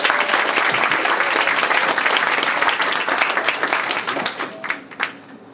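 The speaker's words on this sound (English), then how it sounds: "So please give a round of applause." An audience at a grand launch event in Adelaide breaks into sustained, dense applause that fills the room, then thins into a few scattered claps at the end.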